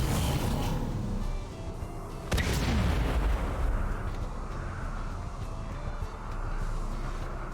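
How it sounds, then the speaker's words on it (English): Burst-fire gunshots in a zombie apocalypse video game, heavy booming shots with a strong impact near the start, followed by rumbling echoes under dense game noise. "so it's burst fire"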